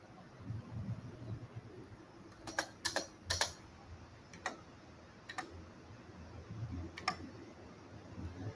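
A computer keyboard is typed on quietly, with scattered sharp clicks of the tab and delete keys, some in quick pairs, against a faint steady background hum.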